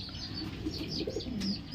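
Soft, low coos of a roller pigeon sound against a steady background hum, close and gentle, a few murmuring calls in quick succession.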